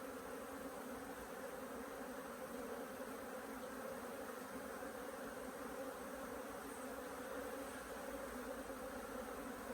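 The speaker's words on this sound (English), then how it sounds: "The bees are really not happy at all" Agitated honey bees swarm around an opened hive box, a dense, steady buzzing drone that fills the whole stretch without pause, fairly close and moderately quiet.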